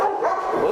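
A Rottweiler on a farm gives a short, close, loud bark or yip, a single brief vocal burst.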